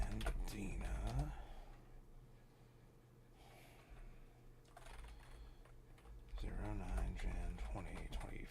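Someone types in bursts on a computer keyboard. Clattering keystrokes come at the start and again near the end, with breathing and quiet pauses in between.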